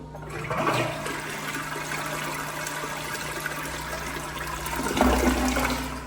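A household toilet flushes once, with a rushing whoosh of water draining away, then a gurgling surge and refill near the end, close by and with no voices.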